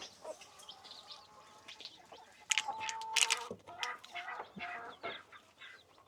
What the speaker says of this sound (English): some chickens hatched today